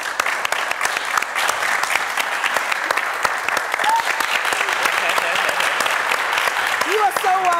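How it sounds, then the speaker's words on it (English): An audience applauds a guest, the president of the Association of Movie Producers, with steady, dense clapping that fills the room throughout. A brief voice cuts in near the end. "a round of applause for Zik Zulu Okafor"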